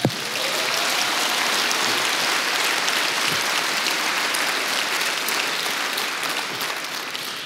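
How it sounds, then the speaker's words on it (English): Dense, sustained applause from a sizable crowd at the EVE Fanfest 2018 closing ceremony, steady and loud throughout. "Give yourselves a round of applause."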